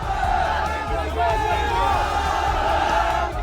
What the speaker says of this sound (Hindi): टोंक की सड़क पर ऐसे ही नारेबाजी करते हुए ये भीड़ निकली